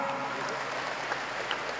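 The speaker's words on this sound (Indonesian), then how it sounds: "Kita beri tepuk tangan yang meriah" Faint audience applause at a university gathering in Semarang, a steady dense patter of many hands clapping, distant and even throughout.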